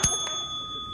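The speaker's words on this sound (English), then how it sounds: "Let's ding the bell." Single sharp ding of a small bell, like a bicycle bell, struck once and left to ring out with a clear sustained tone that slowly fades.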